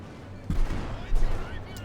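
Two heavy field gun shots from Company of Heroes 2 aimed at a flame half-track, each a booming blast about half a second apart, over a low battlefield rumble with a voice talking faintly.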